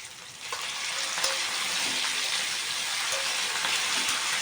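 Eggplant frying in oil along with soaked fish, a steady close sizzle that swells after the first half second and then stays even, with faint stirring clicks and no speech.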